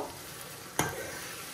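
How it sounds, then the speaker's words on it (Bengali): Onion fries in a pan for a shrimp and green bean curry, giving a constant close sizzle broken by one sharp stirring scrape. "এর মধ্যে ভালো করে পেঁয়াজটা আমি ভাজি লাইমো।"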